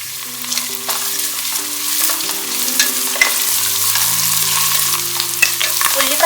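Onions and curry leaves frying in a pan, a bright, crackling sizzle close by, with repeated scrapes and clinks of a spoon stirring across the pan.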